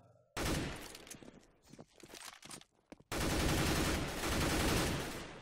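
Gunfire from the video game CS:GO Jailbreak: a sharp burst of rapid shots, a broken patch of scattered shots, then a long, dense, sustained volley, loud and close.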